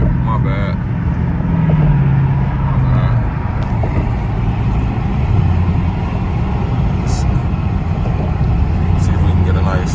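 A car accelerates hard on a Houston drive, its engine roaring loud and close with a rising, strained tone through a quick pull, while people talk over the noise.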